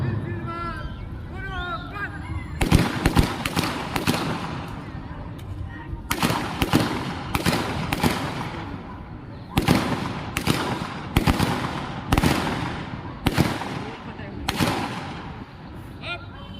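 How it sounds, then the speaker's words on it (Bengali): Subdivisional police fire a ceremonial gun salute at a Republic Day event at a school, a series of about a dozen sharp, loud rifle cracks at irregular intervals over a murmuring crowd and voices. "কাটোয়া মহকুমা পুলিশ প্রশাসনের পক্ষে গান ফায়ার অনুষ্ঠান এখন চলছে।"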